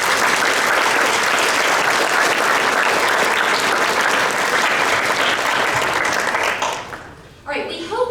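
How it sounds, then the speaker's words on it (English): Optimist Club members and their guest standing at a Pickens County, Georgia banquet receive a dense, steady round of audience applause that fills most of the stretch, then fades and drops away near the end as a room sound returns. "Let's give them a round of applause"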